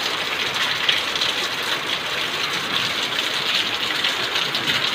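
Heavy rain pours steadily over Cuttack, a dense, continuous hiss with no pauses, loud and even throughout, with no voices.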